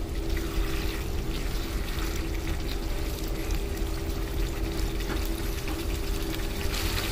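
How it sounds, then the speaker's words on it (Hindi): Water pours steadily into a pan of aloo matar curry close up, a continuous splashing stream with a faint hum beneath it. "अभी इसमें डेढ़ कप पानी डाल देंगे"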